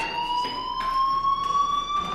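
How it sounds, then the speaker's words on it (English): A fire alarm rings inside the Life Is Strange game, a steady electronic tone with harmonic overtones pulsing in repeated bursts at a constant level, with no talking. "do you hear that fire alarm?"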